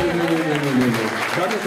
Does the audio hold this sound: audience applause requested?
yes